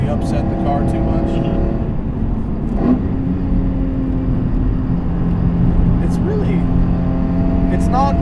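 A Hyundai Genesis Coupe 3.8L engine droning steadily from inside the cabin as the car accelerates, with a continuous hum and a rising tone while a person talks over it.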